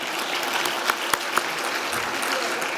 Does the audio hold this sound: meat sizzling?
no